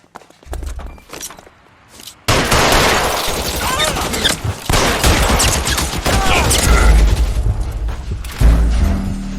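Gunfire in the 1940s Los Angeles crime game L.A. Noire: scattered sharp shots at first, then a loud, dense burst of rapid shooting with clattering impacts, mixed with footsteps and brief muffled voices.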